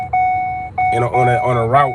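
Electronic beeping inside a car from a GPS or alert device, two steady tones held for most of a second each, close and clear, with a voice talking over the second beep.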